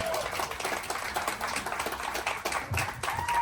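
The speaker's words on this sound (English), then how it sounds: "give a big round of applause to Alina Vincent" An audience on a cruise-ship marketing event claps to welcome a speaker to the stage, a dense, sustained round of applause at moderate loudness with faint background voices.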